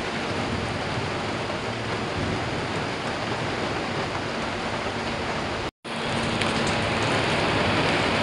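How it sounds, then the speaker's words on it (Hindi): Heavy rain falls in a dense, even hiss that holds at a steady level from start to finish. A very brief dropout occurs near the end before the downpour resumes. "तेज़ बारिश आ गई है और धूप भी निकल रही है साथ साथ"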